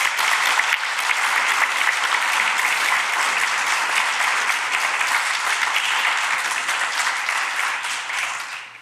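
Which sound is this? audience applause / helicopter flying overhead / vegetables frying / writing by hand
audience applause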